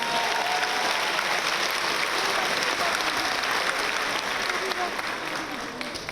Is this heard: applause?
yes